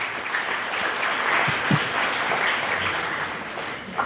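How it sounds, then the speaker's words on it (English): Steady, moderately loud applause from an audience at a club cybersecurity networking panel, honoring the speakers; continuous dense clapping throughout with a couple of brief thumps. "give a big round of applause to our amazing speakers"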